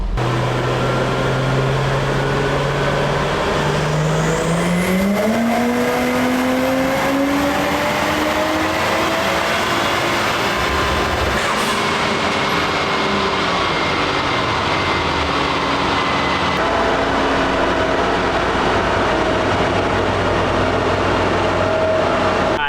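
A turbocharged Toyota Chaser JZX100 runs on a dyno, its engine tone climbing steadily in pitch as it pulls through the revs, then settling into a sustained loud drone with a broad roar and rushing air around it.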